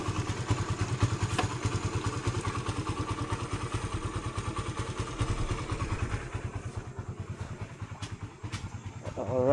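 A motorcycle engine over a hundred years old idles close by with a loud, rapid, regular thumping beat, steady throughout and rising slightly at the end.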